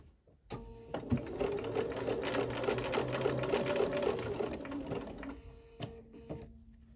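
Sewing machine running steadily, stitching the snowballed corners of a quilt block, a close continuous mechanical whir lasting several seconds before stopping.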